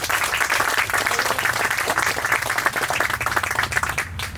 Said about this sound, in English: please give a round of applause to John Boesel